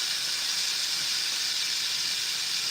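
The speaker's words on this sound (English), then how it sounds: "I'm just getting a good sear on this chicken" Chicken searing in a hot pan, a steady loud sizzle and hiss that holds evenly throughout with no pauses and no talk.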